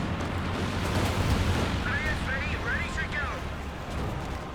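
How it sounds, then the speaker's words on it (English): Artillery concentration barrage in Company of Heroes 2, a dense, continuous rumble of overlapping explosions with no clear gaps and a few brief whistling tones midway; a faint voice may be mixed in. "We got the Concentration Barrage coming on in"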